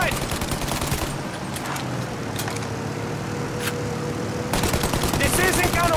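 Sustained gunfire aimed at a plane's engines in the video game Mafia Definitive Edition, a dense run of rapid shots through the clip that grows heavier near the end, with vehicle noise underneath.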